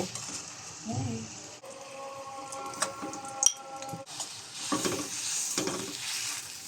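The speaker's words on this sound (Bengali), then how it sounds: "এখন তেলের সাথে কদবেল এবং জলকই মিশিয়ে নিচ্ছি" Wood apple and boiled olives stirred in hot oil for a sweet-sour wood apple pickle, with a soft steady sizzle and scraping stirs, a few clinks of the pan and a brief low voice early on.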